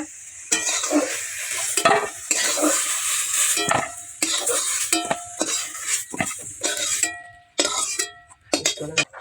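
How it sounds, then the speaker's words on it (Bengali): Okra fries in a hot pan while it is stirred, so the sizzle comes in uneven bursts with short pauses, along with scraping and clattering from the utensil against the pan. "প্রথমে কেটে ধুয়ে রাখা ঢেঁড়সগুলো ভেজে নেব।"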